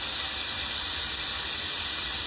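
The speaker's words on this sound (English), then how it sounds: "And so we're going to get these hamburger patties a-going. Hear that sizzle?" Hamburger patties sizzle steadily in a hot pan on the stove, a continuous close hiss with no break and no talking over it.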